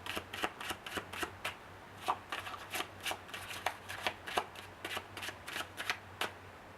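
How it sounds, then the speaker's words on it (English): Playing cards are shuffled overhand in a quick, steady run of crisp riffling slaps, close and fairly quiet, with no talking. "This is how the overhand shuffle looks like"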